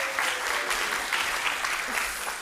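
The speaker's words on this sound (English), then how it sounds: "Let's give them a round of applause too." Steady applause from a church congregation fills the whole stretch, dense and sustained at an even level.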